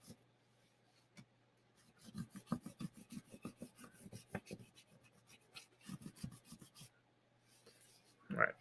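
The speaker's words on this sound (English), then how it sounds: "that light crayon rubbing tells us kind of where everything is." A crayon being rubbed lightly over paper laid on a raised space ship design, heard as quiet, rapid scratchy strokes in bursts with short pauses, and a louder rustle at the end.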